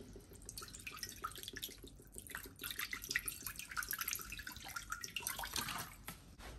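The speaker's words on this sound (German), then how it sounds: "Werde ich jetzt hier mal mit Essig aufgießen." Vinegar pours and splashes steadily into a clay pot (Römertopf) nearby, with bright trickling and dripping sounds for several seconds, no voices.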